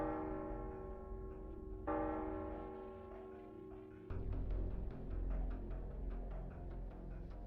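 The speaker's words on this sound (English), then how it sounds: "Bells." Bells ring in the video game Arknights, giving sustained layered tones that shift partway through into a denser, faintly pulsing, resonant chime, moderately loud and without any talking.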